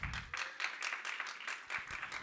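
A church congregation claps along in a quick, steady rhythm, fairly faint and distant, with a short burst of low rumble at the very start.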